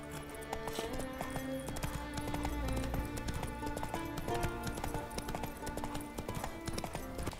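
A horse's hooves clip-clop at a steady gallop through The Witcher 3's open world, rapid rhythmic thuds continuing throughout alongside game sounds, with a rider's faint breathing or movement mixed in.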